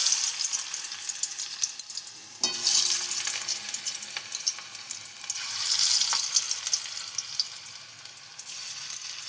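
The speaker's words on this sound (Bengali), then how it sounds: "দেখুন বড়াগুলো আমার ভাজা হয়ে গেছে।" Manchurian balls deep-fry in hot white oil in a pan on a gas stove, giving a steady, loud bubbling sizzle throughout, with a few clinks and stirring sounds on top and no talking.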